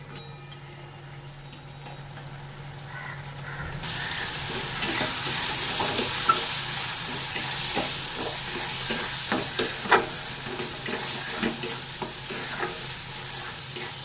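Lote fish sizzling and frying in a pan as its broth cooks down, with steady loud hiss and repeated scraping stirs of a spoon, beginning after a quieter opening few seconds.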